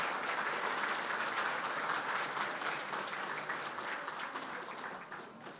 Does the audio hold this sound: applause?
yes